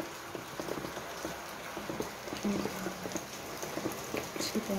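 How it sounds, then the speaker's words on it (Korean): Heavy autumn rain pours steadily outdoors, a dense, close hiss of drops spattering on surfaces with scattered louder splashes throughout, no voices. "비가 막 쏟아지죠?"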